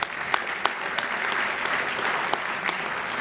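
A round of applause from the audience at a Woodbridge Metro Chamber of Commerce awards evening, a steady moderate wash of clapping with a few sharp individual claps standing out near the listener.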